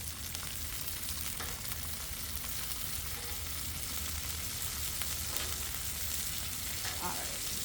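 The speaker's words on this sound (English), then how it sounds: "Got to multitask and check on our bacon." Bacon sizzles in a pan with a dense, continuous crackle and spitting, steady throughout with occasional stirring scrapes and no talk.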